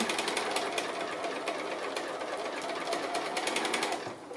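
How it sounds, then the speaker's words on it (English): A sewing machine runs continuously, stitching strips of fabric into a curved cushion with a fast, even needle rattle, close up, slowing briefly at the end. "If you hold that top fabric and wander it around as you're sewing"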